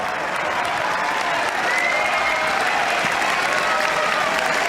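A Wimbledon tennis crowd applauds steadily as players change ends, a dense, loud wash of clapping from a large audience that fills the whole stretch without pause.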